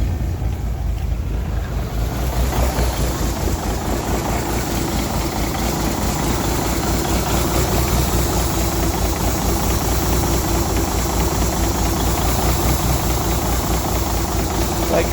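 A 352 engine idles steadily and continuously at close range, a low rumbling drone with no pauses, as a fuel pump sticks and the ammeter still shows discharge.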